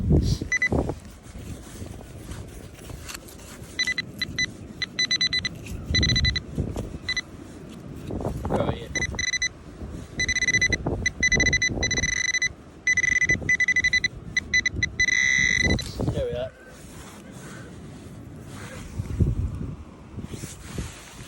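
Repeated electronic target tones from a Minelab Manticore metal detector chirp in short bursts over digging and rustling noise, with outdoor wind in the background.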